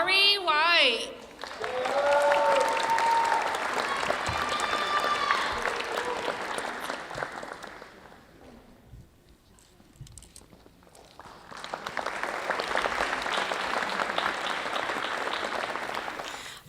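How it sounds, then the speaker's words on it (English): Audience applause fills a high school graduation ceremony in Thousand Oaks, a loud, dense clapping crowd with a few whistles early on. It thins and softens in the middle, then swells back to full strength. "just another huge round of applause"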